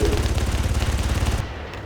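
Rapid automatic gunfire in the video game Far Cry, a dense sustained rattle of repeated shots running loud and steady before dropping off abruptly near the end.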